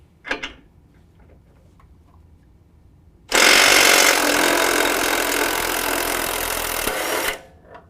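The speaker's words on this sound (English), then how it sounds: "I like to use an impact driver to get it off nice and quick." An impact driver loosens an 18 mm nut while a sway bar is being removed from a 2019 GMC Sierra 1500. It fires one loud, steady hammering burst of about four seconds, after a few faint knocks.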